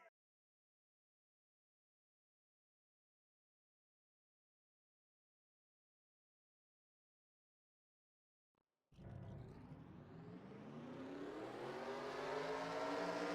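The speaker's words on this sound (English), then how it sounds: "Drivers, start your engines." Stock car engines in the NR2003 racing game fire up together after near silence, building into a loud, rising roar of many engines revving.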